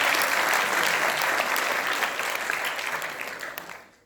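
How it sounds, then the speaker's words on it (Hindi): Sustained applause from an audience at a motivational class fills the room, loud and dense from the start, then tapers off and fades out near the end. "भी आने के लिए ताली बजाओ भाई।"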